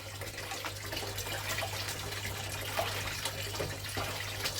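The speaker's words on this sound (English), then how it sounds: "it won't take long to wash this larger chunks of quartz off the top" Water runs steadily over chunks of quartz ore being washed, a continuous splashing flow with a low hum beneath it and no voices.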